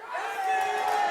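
A live esports arena crowd at a European League of Legends match cheers and whoops in a sustained, dense roar, loud and continuous across the moment.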